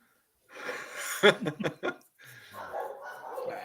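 Several sharp, close barks from excited dogs in a quick cluster, mixed with laughter and breathing, with people talking before and after.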